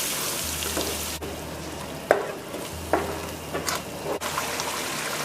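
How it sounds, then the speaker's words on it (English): Masala paste frying in hot oil, a busy crackling sizzle with wet stirring scrapes and a few abrupt knocks, close and fairly loud, no one speaking. "And the oil is hot. I'm going to add the masala."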